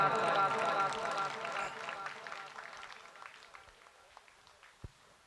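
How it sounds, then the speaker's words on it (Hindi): Applause from an audience at a priestly ordination celebration with felicitations and a cultural program starts full and close, then thins and fades over several seconds into scattered claps, with faint voices underneath. "जोरदार तालियां"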